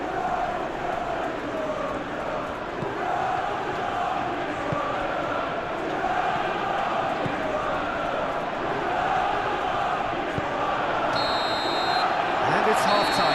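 Steady stadium crowd roar during a simulated PES 20 Premier League football match between Tottenham and Arsenal, a dense continuous murmur throughout with a brief whistle-like tone near the end.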